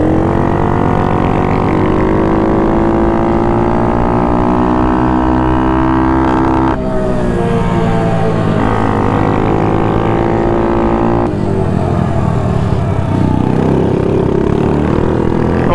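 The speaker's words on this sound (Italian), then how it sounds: "Sto motore è una merda, fa tanto casino," A loud motorcycle engine runs close up, a harsh continuous drone whose pitch shifts as the throttle changes.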